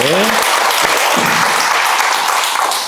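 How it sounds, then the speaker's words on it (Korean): Dense, loud audience applause from a seated crowd at a lecture, continuous clapping throughout with a brief voice at the very start. "박수 한번 치고 갈까요?"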